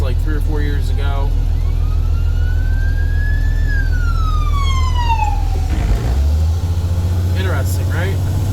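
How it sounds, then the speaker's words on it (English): A yellow ambulance siren sweeps past, its loud wail climbing and then dropping in pitch as it goes by, over a steady low rumble of road traffic and engine noise. "Nice ambulance. Yellow."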